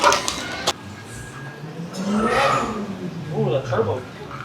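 Car engine revving with an audible turbo spooling up, rising and falling in pitch, while people talk nearby over it.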